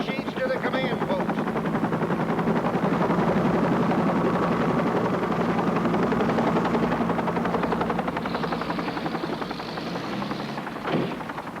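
Helicopters come and go around an icy mountain rescue site, their heavy rotor chop thudding steadily and loud throughout, with a rising whine late in the stretch.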